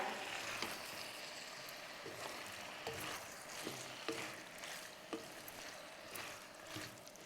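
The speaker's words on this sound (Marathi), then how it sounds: "फ्लॉवर आणि मटारला मस्त असे लागले पाहिजेत असे आपण हे परतवून घ्यायचे" Cauliflower and peas sauté in masala with a steady close sizzle, broken by regular scraping knocks of a spoon stirring the pan, with no talking.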